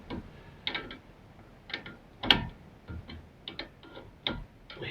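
A ratchet tightens a front drop link on a Volvo S60 (P2) in irregular bursts of sharp clicking, close and clear against a quiet background.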